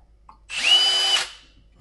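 A power drill whirs up to a steady high-pitched spin for under a second, close and loud, then winds down, with a faint spattering hiss as it spins water off a wet sanding pad used on glass.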